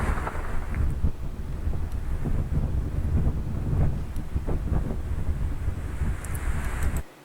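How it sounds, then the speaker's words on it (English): Strong straight-line winds lash trees and power lines during an EF-0 tornado event in Huntersville, North Carolina, a steady loud roar of gusts buffeting the microphone with occasional low rumbles, cutting off abruptly at the end. "you can see the straight line winds whipping the trees and the power lines up and down"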